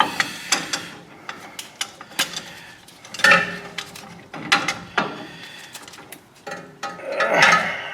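Large channel-lock pliers squeeze the piston back into a front brake caliper on a 2009–2018 Ram 1500, giving a close series of metallic clicks, creaks and scraping clanks in irregular bursts.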